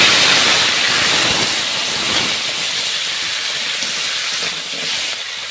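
Crabs frying in a little oil in a pan give off a loud, steady, hissing sizzle that holds evenly throughout, with no voices.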